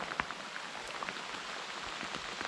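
Steady heavy rain falls in dense forest on a fishing outing, a continuous broadband patter with close individual drops popping irregularly over the wash.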